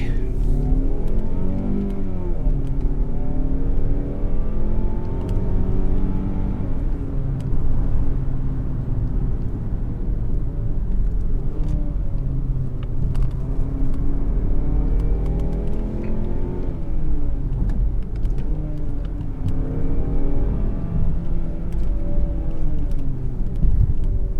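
A Mazda CX-30 is driven on a small track in sport mode with manual shifting, its engine revving up and down repeatedly through gears, loud and continuous with rising and falling pitch.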